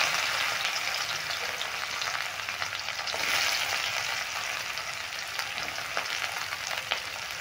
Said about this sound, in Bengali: পেঁয়াজগুলো দিয়ে দিলাম।